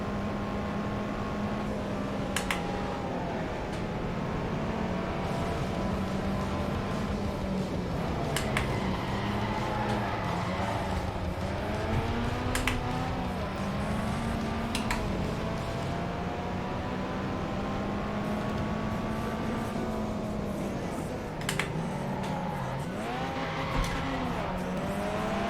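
A race car engine in an old racing video game revs hard at full throttle, its pitch rising and falling through gear changes with occasional tire squeal, loud and continuous with no talk.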